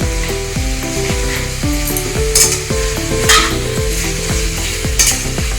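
A spatula stirs Bengali-style mutton curry with potatoes in a sizzling pan, scraping in quick, regular strokes about once every half second over a constant frying hiss.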